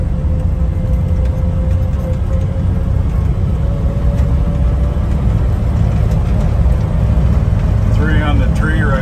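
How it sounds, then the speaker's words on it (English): A 1970 Toyota Land Cruiser with a three-on-the-tree column shift drives along in second gear, its engine a steady, loud low rumble with road and wind noise throughout. "We're out driving our 70 Toyota Land Cruiser."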